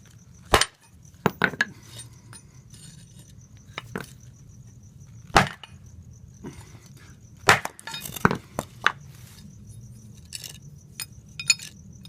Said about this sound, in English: I'm going to put it between 2 blocks of wood on a concrete driveway and pound on it with a sledgehammer.